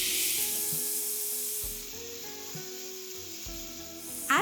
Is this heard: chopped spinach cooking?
yes